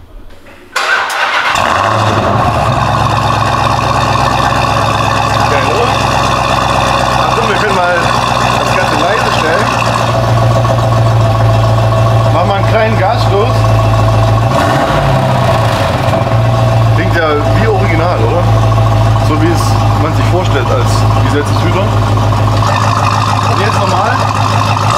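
A Dodge Charger Widebody cold-starts with a brief crank and a sudden loud catch, then settles into a deep, rumbling, slightly lumpy idle that holds steady and close for the rest of the clip.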